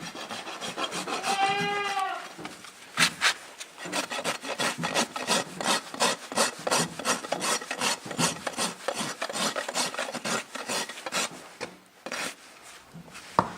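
A farrier's rasp files a horse's hoof while shaping a bevel and roll, with steady back-and-forth rasping strokes, close and loud, after a brief animal vocal sound at the start.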